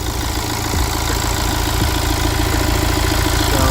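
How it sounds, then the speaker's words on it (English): Mini Cooper D diesel engine idles steadily with its cooling fan running, a constant droning hum with a faint rhythmic ticking, heard close and alone with no talk. "and the fan's going there."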